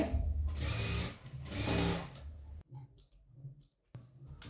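A sewing machine stitching a crop top runs in a steady close whirr for about two and a half seconds, pauses briefly, then starts again for short bursts.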